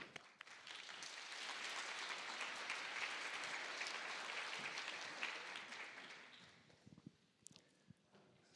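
A keynote audience breaks into applause to welcome the speaker, a steady, moderately distant wash of clapping that swells, holds, then thins out into a few scattered claps.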